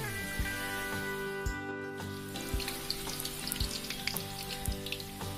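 Pempek dos fish cakes filled with papaya, a Palembang speciality, sizzling in hot oil in a pan, a steady frying crackle with small pops and clinks throughout.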